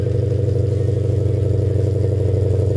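A Ford Mustang GT with ARH long tube headers and a catted X-pipe idles nearby. The exhaust is loud and steady, with a deep, even burble and no talk.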